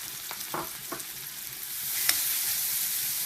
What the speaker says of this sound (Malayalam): അടുത്ത പാൻ നമ്മുടെ അത് ചൂടായിട്ടുണ്ട് ചീനച്ചട്ടി അതിലേക്ക് നമുക്ക് ചതച്ചത് നന്നായിട്ട് മൂപ്പിച്ചെടുക്കാം